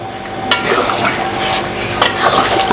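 A pan of fish-head mung dal with rohu fish heads is stirred, a bubbling simmer under two sharp utensil scrapes against the pan, close and steady.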